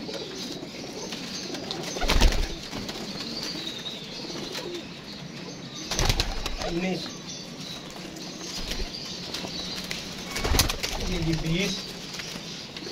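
Racing pigeons let go one by one for cargo shipment, giving a few bursts of close wing flapping and brief coos spaced several seconds apart, with someone speaking between them.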